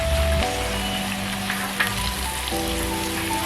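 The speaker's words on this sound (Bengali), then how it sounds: "এখানে আমাকে মেক শিওর হতে হবে যেন বিরিয়ানি মশলাটাই খুব সুন্দর করে ভুনা হয়" Ginger-garlic paste and biryani masala fry in a pan for chicken kofta biryani, giving a steady close sizzle throughout. A low hum and occasional light stirring clicks sit underneath, with no voices.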